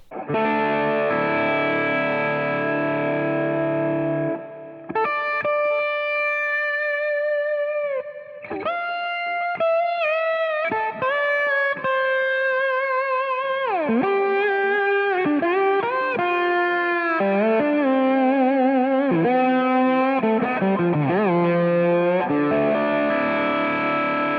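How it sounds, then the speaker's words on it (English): An electric guitar through a DSM Humboldt Simplifier MK2 pedal with mild overdrive plays sustained notes, then a run of bends and phrases, warm and slightly gritty. "I can just leave it on my smooth drive sound, back the volume off on the guitar"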